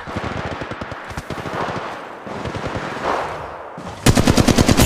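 Rapid automatic gunfire in the mobile shooter Apex Legends Mobile, bursts of crackling shots stuttering in quick rhythm, pausing briefly and then erupting louder and denser at the end.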